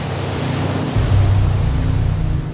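Ocean surf breaks on a beach near Sao Paulo, Brazil, a loud continuous wash of water that swells slightly midway, with no voices.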